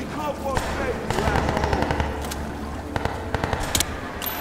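Automatic weapon fire in Crysis 3 Remastered, rapid bursts crackling through a busy battle mix with shouted voices over the top, shots clustered in short volleys.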